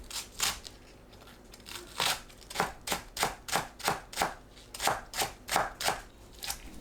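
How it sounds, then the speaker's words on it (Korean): A knife chopping green onions on a cutting board, about a dozen crisp, evenly spaced thuds in a steady rhythm, close and alone without talking. "파를 작게 썰어주세요."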